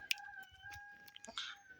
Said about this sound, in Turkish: 3 kilo bir kart horoz